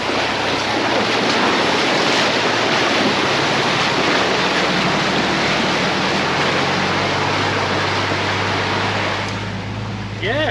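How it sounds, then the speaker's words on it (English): A 4WD towing a caravan pushes through a water crossing on a bush track, with a steady loud rush of churning water and engine roar filling the whole clip, easing slightly near the end. "We've got a little bit of a water crossing. Hopefully it's not too deep."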